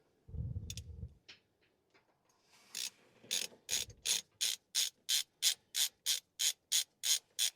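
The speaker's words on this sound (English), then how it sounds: "we use this special tool to undo the nut on the back of the main shaft" A special tool ratchets a nut off the back of the main shaft of a Land Rover Series III gearbox being fitted with overdrive, a close, steady run of about a dozen evenly spaced clicks after a few scattered knocks.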